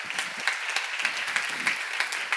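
A church congregation claps together during a Korean seminar sermon, a steady mid-level patter of many hands lasting the whole stretch with no one speaking.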